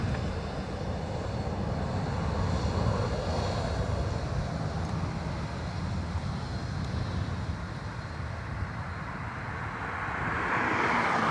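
A WestJet airliner, a Boeing Dreamliner, lands on runway 28 left at Dublin Airport. A continuous low engine roar holds steady throughout and swells slightly near the end, with no voices.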